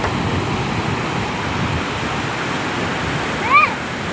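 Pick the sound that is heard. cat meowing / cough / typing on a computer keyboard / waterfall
waterfall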